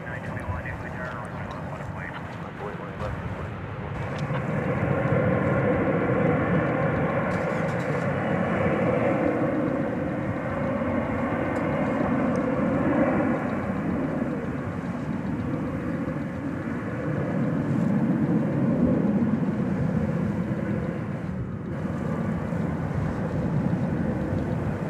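Jet airliner on its takeoff roll from a west-side runway at DFW airport at night, a rising, sustained engine roar that holds loud and steady, heard from a distance, with a voice talking over it early on.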